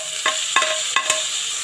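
Onion and tomato hitting a hot pan, a loud continuous sizzle with a few quick metallic scrapes and clinks of a spoon as the pieces go in and get stirred.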